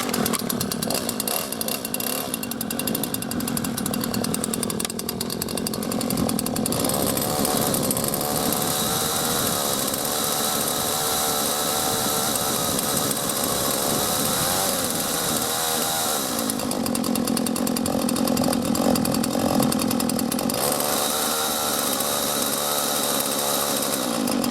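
A small Husqvarna 120 chainsaw, new, revs and cuts through hard red oak, its engine whining steadily at high pitch with short dips in load between passes, loud and close throughout with no talk.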